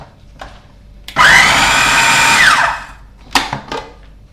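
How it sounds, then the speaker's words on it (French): A blender whirs loudly for about a second and a half, spinning up and winding down as it purees raw fish flesh with egg whites for a fish loaf. Light kitchen clatter comes before and after. "on va mixer pour obtenir quelque chose d'assez fin. Mais attention à ne pas chauffer la chair du poisson"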